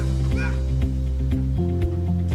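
A man imitates a barking dog in a short run of repeated barks over a steady low mechanical hum, the barks muffled and partly buried beneath the drone.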